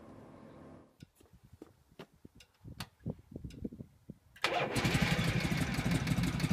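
A 1972 Harley-Davidson Shovelhead Electra Glide motorcycle cranks with a series of uneven clicks and chugs, then its engine fires and settles into a loud, steady, rumbling run close by.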